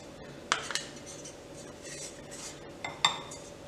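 Gujiya filling of coarsely ground mawa and sweet mixture stirred in a bowl, quiet soft rubbing punctuated by two pairs of sharp metal spoon clinks against the bowl, close and alone.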